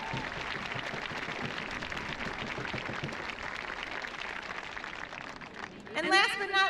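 A graduation ceremony audience claps in a steady, dense wash of applause heard from a distance and fairly faint, ending with a brief voice at the close.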